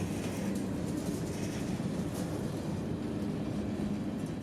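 A steady, continuous rumble of an old train pulled by two old locomotives rolling by at a distance, a dense even roar with faint rhythmic clatter that holds level throughout.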